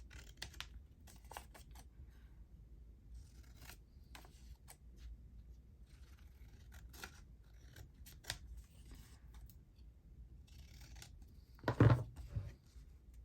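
Scissors snip and trim a paper journal card for a Christmas junk journal, a quiet run of small cuts and rustles ending in a louder, closer snip and paper handling near the end.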